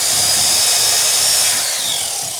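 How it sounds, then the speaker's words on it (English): A small drill bores holes for bronze nails in the centerboard box of a wooden Chamberlain Alpha Dory, a steady close high-pitched whine with no talk. "drilling for the bronze nails"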